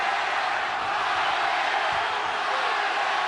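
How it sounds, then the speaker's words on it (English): Dense boxing arena crowd at a Marco Antonio Barrera vs Rocky Juarez fight, a steady roar of many voices that fits dueling chants for the two fighters, loud and continuous throughout. "We're hearing dueling chants Rocky, Rocky, Rocky. Marco, Marco, Marco."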